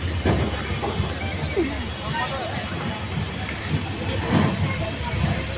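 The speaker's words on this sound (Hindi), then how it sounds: "2 मिनट हॉल्ट के बाद ट्रेन अपनी रवाना हो चुकी है बागडोगरा एयरपोर्ट से।" Capital Express passenger train running out of Bagdogra after a two-minute halt, a steady broadband rumble with faint rhythmic clatter of wheels on rails, heard from inside the moving coach.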